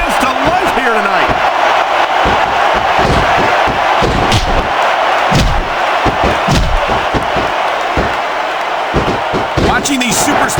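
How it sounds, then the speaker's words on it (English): A loud, steady arena crowd roars and cheers throughout a WWE Smackdown vs RAW 2006 wrestling match between Trish Stratus and Stacy Keibler on PS2, with impact slams and commentary voices over the din. "I can't remember the last time I seen a crowd so pumped up."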